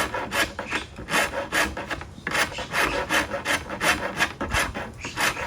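A file rasps rhythmically across wood to round it, a quick series of close, bright scraping strokes with a brief pause partway through.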